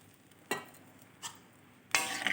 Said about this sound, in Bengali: এবার ভালোভাবে একটু নেড়ে চেড়ে দিচ্ছি